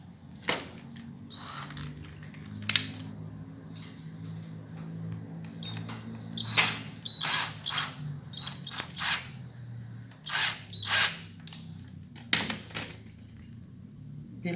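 A screw is driven by hand into the frame of a projector screen, producing faint, close, irregular creaks and clicks with small squeaks over a quiet low hum.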